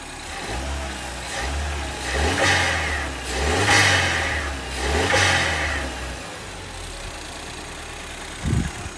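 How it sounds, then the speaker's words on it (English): A Ford Fiesta ST MK7 fitted with an AirTec intake is revved several times while parked. There are three or four rising and falling swells over a steady idle, fairly close, with a short sharp burst near the end. "Do you want me to give it a rev?"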